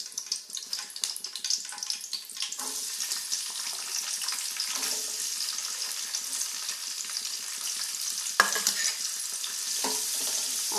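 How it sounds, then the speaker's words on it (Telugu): Onions fry in a pan with a soft, continuous sizzle and frequent light stirring clatter, one sharper utensil knock near the end. "ఆనియన్స్ ఫ్రై అవుతున్నాయి"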